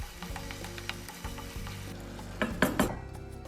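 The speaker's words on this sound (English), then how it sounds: "The garlic is so fine that it cooks immediately" Finely chopped garlic sizzles and fries in a hot pan for pasta, a steady crackle with stirring scrapes and a few sharp clinks of utensil on cookware near the end.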